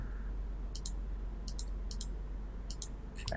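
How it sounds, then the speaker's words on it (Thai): A computer mouse gives several crisp, close clicks, mostly in quick pairs spaced about half a second apart, during work in architectural house-drafting software, over a low steady background hum. "คลิกที่พื้นนะครับ แล้วก็คลิกที่ผนัง"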